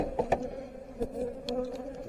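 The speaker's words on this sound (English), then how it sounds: "The bees are a bit angry." Close, steady buzzing of many angry honey bees in a forest apiary, with a loud droning tone and sharp clicks and knocks mixed in.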